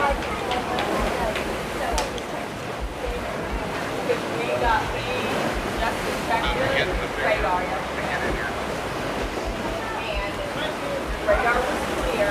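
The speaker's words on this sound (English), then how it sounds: "It's really windy." Strong wind gusting across an open pier at night, a steady broadband roar buffeting the microphone for the whole stretch, with distant surf mixed in and a person's voice occasionally heard beneath it.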